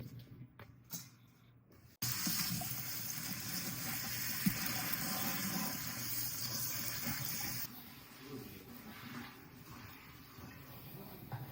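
Greens washed under a running kitchen tap, a loud steady rush of water that switches on abruptly after a short quiet start and drops to a softer flow near the end.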